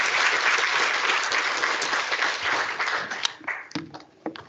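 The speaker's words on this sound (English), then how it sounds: "one final round of applause for that" Audience applause fills a hall after a keynote presentation at a UCAS event, dense and steady for about three seconds, then thinning into scattered final claps.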